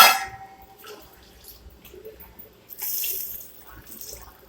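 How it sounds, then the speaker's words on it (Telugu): Water is poured into a pot for rava upma, heard as a brief splashing rush midway that follows a clattering knock at the start, with quiet trickles and small knocks in between. "రవ్వకి మూడు కప్పులు వాటర్ యాడ్ చేసుకోండి"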